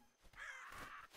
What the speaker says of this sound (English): There's a parrot.